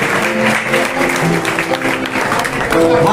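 Applause from a crowd at a school farewell ceremony at K. B. Patel Vidyalaya in Finchod welcomes a guest, sustained clapping that stays loud throughout with voices mixed in underneath.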